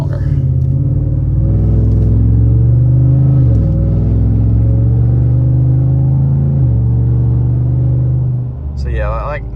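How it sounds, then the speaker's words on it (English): A 6.2-litre Chevrolet Silverado V8 with a cat-back straight-pipe exhaust drones loudly and deeply under a voice, with the engine note rising and dropping twice as it shifts. "The exhaust cracks on the shifts, and yet it's not overbearing."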